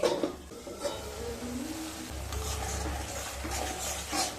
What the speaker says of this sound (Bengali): আর পরিমাণ মতো লবণ দিয়ে দেব দিয়ে মশলাগুলোকে খুব ভালো মতো কষিয়ে নেব